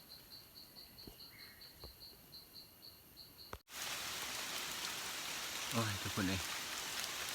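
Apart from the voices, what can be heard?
rain falling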